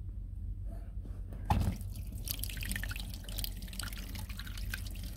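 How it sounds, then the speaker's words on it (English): Water draining from an exhaust manifold hose on a 2007 Malibu Wakesetter boat being winterized, a faint dripping trickle over a low engine-bay hum with a sharper splash early on. "We're getting water out of both hoses."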